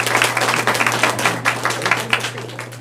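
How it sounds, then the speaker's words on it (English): A group of people clapping at a team meeting, with sharp, close individual claps in a loose, uneven rhythm, loud and continuous over a low steady hum, with no talking. "So whoever wants Eric to win, clap."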